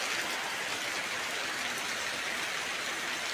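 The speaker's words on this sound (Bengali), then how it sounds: "বৃষ্টি হচ্ছে প্রচুর পরিমাণে" Heavy rain falls through the night during a light storm, a dense, steady hiss of drops on surfaces that holds evenly throughout with no voices.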